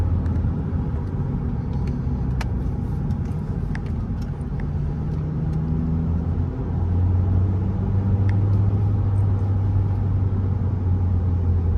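A car engine rumbles inside the cabin and then rises to a louder, deeper drone as a paddle-shift downshift brings up the revs, steady and close with no talking.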